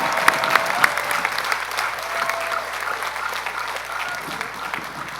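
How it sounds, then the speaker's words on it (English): A large crowd applauds the keynote speaker, Leslie Odom Jr., at Carnegie Mellon University's commencement, with dense, sustained clapping and a few sharper nearby claps early on, holding steady throughout and joined by faint crowd noise. "Let's hear another round of applause for our extraordinary keynote speaker"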